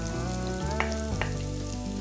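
Garlic, scallion and onion sizzling in a pan, a steady close fry hiss beneath a sustained droning hum that shifts pitch twice, with two brief bright clatters.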